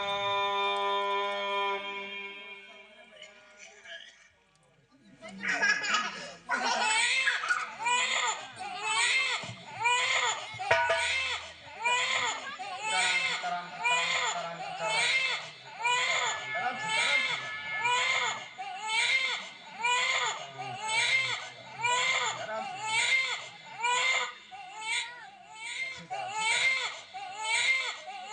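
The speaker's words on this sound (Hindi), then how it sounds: "ये किसका बच्चा रो रहा है?" A baby crying in repeated rhythmic wails after a few seconds of other sound, loud and close, each sob rising and falling in a steady pulsing pattern that continues to the end.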